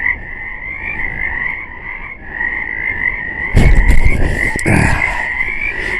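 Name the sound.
frogs croaking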